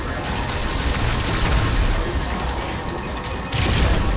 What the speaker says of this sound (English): Cross bomb.